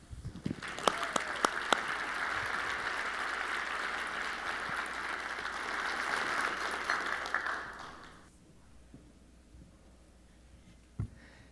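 An audience applauds to welcome a speaker onstage at a health care policy keynote, with sustained even clapping that fades out after about eight seconds, leaving a quiet room with a single thump.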